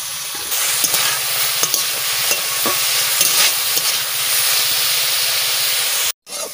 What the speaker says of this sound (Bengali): উস্তে ভাজা হয়ে গেছে,